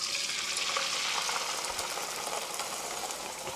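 Beaten eggs fry and get scrambled in hot oil for pear fried rice, giving a steady, dense sizzle that holds close and even throughout with no voices.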